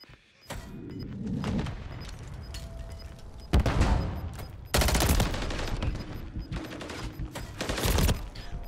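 A Striker 9 shotgun fires in a ranked online shooter match, with loud punchy blasts arriving in quick clustered bursts, some heavier booms among them, and no talk.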